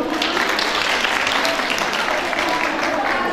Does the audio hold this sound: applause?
yes